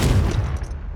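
A Confringo fire spell cast in Hogwarts Legacy inside Sambakar's Tower, a loud blast that booms at the start and then rumbles low for a moment.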